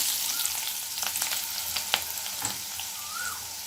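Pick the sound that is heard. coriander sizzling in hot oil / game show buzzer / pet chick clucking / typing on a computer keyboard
coriander sizzling in hot oil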